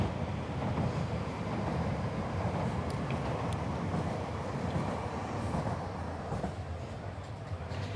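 A train rolls past in Amersfoort, Netherlands, a steady broadband rumble that fills the whole clip with no letup, close and fairly loud, mixed with wind buffeting the microphone.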